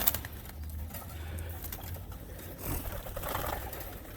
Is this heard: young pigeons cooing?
yes